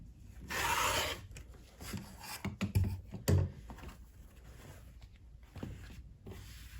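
Fabric cut along a marked line on a cutting mat, giving a few close, crisp rasping strokes, one longer at first and then several short bursts, with quiet pauses between and no talking.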